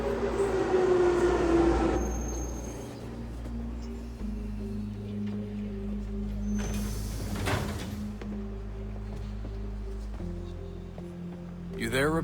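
A train ride inside the Assassin's Creed III video game: a steady low rumble of rolling carriages with metallic clanks and a passing squeal, while voices talk over it.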